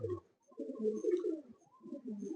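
A racing pigeon coos inside its loft, several soft, throaty rolling calls heard close and fairly quiet, with short pauses between phrases.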